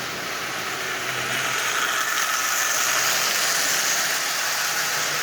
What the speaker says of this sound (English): And this motor is running just absolutely splendidly.